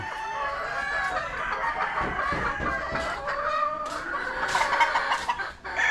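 A Kelso gamecock rooster on a farm clucks and crows at close range, its calls layered over faint background noise throughout, with no talk.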